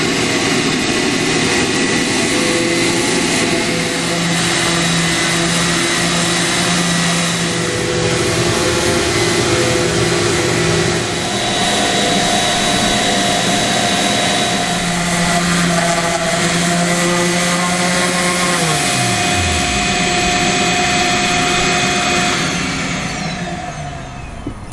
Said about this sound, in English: she's gonna sand this down for us